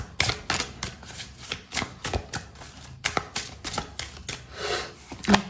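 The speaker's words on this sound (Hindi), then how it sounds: "कुछ और कार्ड्स लेते हैं" Tarot cards are drawn and shuffled close by, giving a quick series of crisp card snaps and riffles with a soft papery rustle between them.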